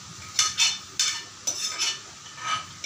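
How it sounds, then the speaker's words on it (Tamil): Chicken and mutton pieces dropped into a hot pan and stirred, with a series of scraping, sizzling strokes in an uneven rhythm, close and moderately loud. "இப்போ வந்து நான் இந்த சிக்கன் மட்டன் இதில் போட போகிறேன்"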